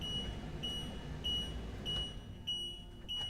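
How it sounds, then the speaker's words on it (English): A Winnebago camper van's warning bell sounds for raised bars, a series of evenly spaced high beeps roughly every 0.6 seconds over a low steady engine or road rumble. "you get this bell that's telling me that these bars are up."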